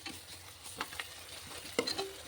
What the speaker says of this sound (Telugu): అల్లం వెల్లుల్లి పేస్ట్ కూడా పచ్చివాసన పోయేంత వరకు దీన్ని బాగా ఫ్రై చేసుకుందాం